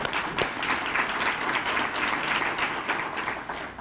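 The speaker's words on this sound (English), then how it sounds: "a round of applause for yourselves" Sustained audience applause fills a luncheon and awards ceremony for a drug court's 20th anniversary, steady and dense clapping from a large room throughout, no talking over it.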